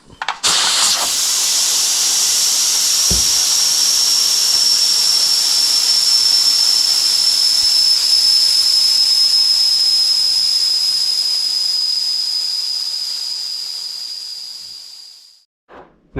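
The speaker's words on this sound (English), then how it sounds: "I'm going to use my towel to carefully remove the rocker weight. We want to go ahead and get this depressurized as fast as possible" Steam blasts out of a pressure cooker as the rocker weight is lifted off after sterilizing grain, a loud, steady high hiss that runs for about fifteen seconds before tapering and cutting out.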